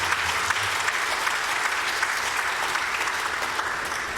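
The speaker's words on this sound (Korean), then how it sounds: "다시 한번 힘차게 축하의 박수, 환영의 박수 주시기를 바랍니다." A church congregation applauds together at a Sunday service, a dense, steady wash of clapping that holds evenly from start to finish, fairly close and with no voices over it.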